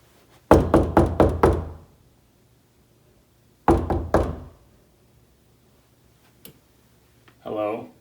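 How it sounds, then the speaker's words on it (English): Knocking on a door, a rapid series of five firm knocks, then a pause and three more, close and loud, followed by a single faint tap and a short spoken voice at the end. "they knock on the door, instead of using the doorbell like a reasonable person."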